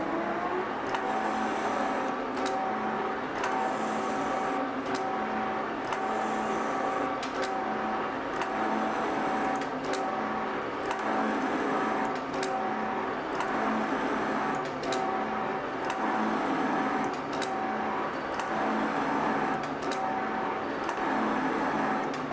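A metal shaper makes repeated oiled cutting strokes, the tool lifting at the end of each pass. A steady mechanical whir and grind is punctuated by a regular click roughly every 2.5 seconds, close and continuous, with no talking.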